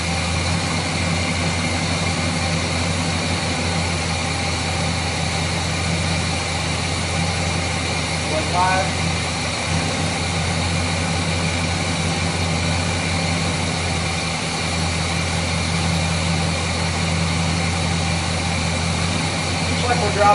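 A Chevrolet 350 V8 engine idles steadily nearby, diagnosed for an intake manifold gasket leak, a constant low droning rumble with a faint whine riding on top, continuous throughout.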